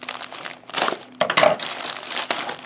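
A tough plastic shipping bag from a Temu order is cut open and handled, giving loud crinkling and crunching bursts in uneven pulses, close up, with no talking.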